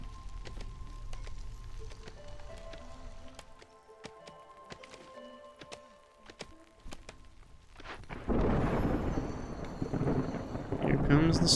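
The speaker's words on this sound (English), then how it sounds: "Here comes the storm." Thunderstorm in the game Against the Storm: a broad, loud rushing roar of rain and rumble sweeps in past the midpoint and holds to the end, following a quieter stretch of faint ambient game sounds and soft tones.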